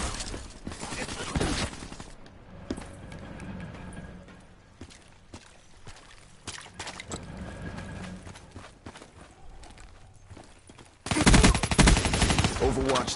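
SMG fire in Black Ops 3 multiplayer, rapid bursts of gunshots with clattering game effects, a loud dense burst near the end, and a voice talking at times.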